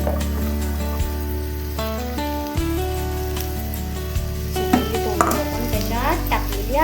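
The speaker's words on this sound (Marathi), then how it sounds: "आता आपण टाकणार आहोत त्याच्यात हे चिरलेले तोंडली" Chopped ivy gourd (tondli) tips into a hot pan already fragrant with coriander powder, setting off a close, steady sizzle with scraping stirs and clattering pieces, over soft background music.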